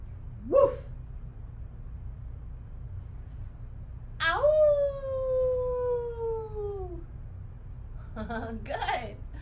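A young voice imitates a dog: a short yelp, then a long howling woof that slides downward, followed by a brief breathy sound.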